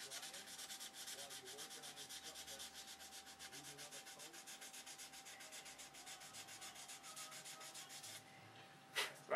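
Steady, rhythmic rasping of sandpaper rubbed back and forth over wood, close and fairly quiet, continuing for several seconds before stopping.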